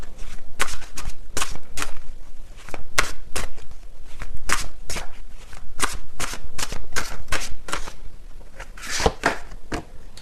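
Tarot cards are shuffled and drawn up close, a continuous loud run of rapid papery flicks and riffles with sharp card snaps scattered throughout.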